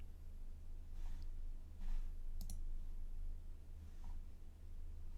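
Faint, isolated mouse clicks sound in a quiet room over a low steady hum while working in a web browser, a couple of sharp ticks spaced a few seconds apart.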